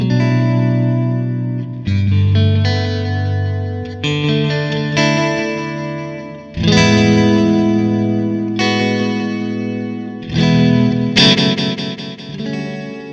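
Sustained electric guitar chords shimmering with chorus and delay from a BOSS DD-500 digital delay pedal, ringing out in changing shapes with lush echoing tails.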